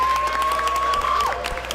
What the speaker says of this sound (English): Everyone applaud Shannon for her great tour guide work.